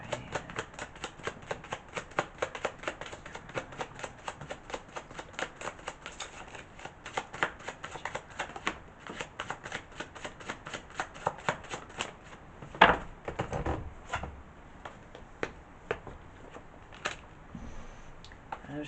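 Tarot cards are shuffled and drawn by hand, giving a fast, rapid riffling flutter of card edges for most of the stretch, then sparser slaps and taps as cards are pulled and laid down.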